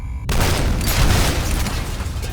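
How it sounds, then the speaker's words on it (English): Heavy repeating cannon from the video game F.E.A.R. fires a loud, dense barrage of booming blasts that starts abruptly after a brief quiet moment and keeps rumbling without pause. "Got me a repeating cannon."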